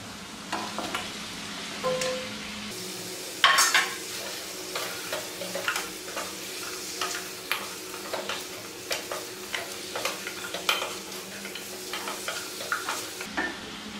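Fried chicken lollipops tossed back into a hot pan, a steady sizzle with repeated spatula scrapes and clicks in an irregular stirring rhythm, close up and with no talking.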